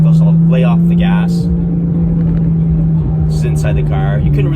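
A 2015 Porsche 911 991.1 with a Soul Performance valved exhaust, valves open, gives a steady, loud, gritty drone heard from inside the car, with voices over it.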